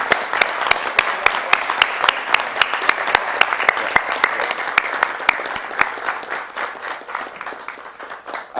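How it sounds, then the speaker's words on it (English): An audience applauds Bob at a recognition ceremony, a crisp burst of many hands clapping close by that holds steady and then gradually thins out toward the end. "Let's give Bob a round of applause"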